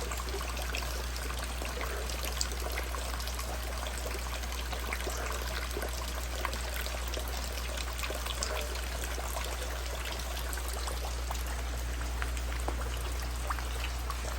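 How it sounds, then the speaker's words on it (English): Steady rain falls on a crayfish pond with flow-through water, a soft continuous patter and trickle with scattered faint drips over a low constant hum. "Since it's raining"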